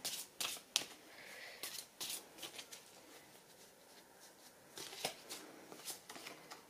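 Tarot cards are shuffled and drawn close by, soft papery riffles and slaps arriving in irregular bursts with quiet gaps between them.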